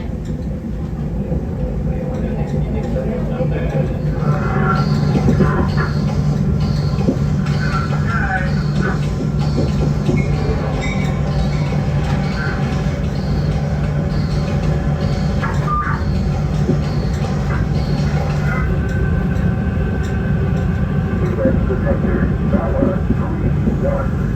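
A train rolls along the track with a steady low rumble and rail noise, a sustained hum and faint clanks throughout, fairly close and continuous, with no talk.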